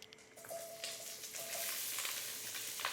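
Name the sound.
stir-frying sizzle in hot pan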